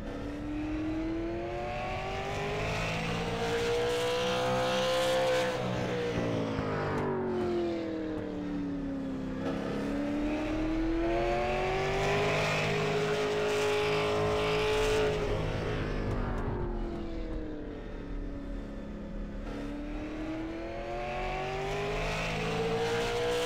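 The number 36 race car laps Martinsville Speedway in a racing video game, its engine note rising and falling in long sweeping cycles as it accelerates down straights and lifts for turns, loud and continuous.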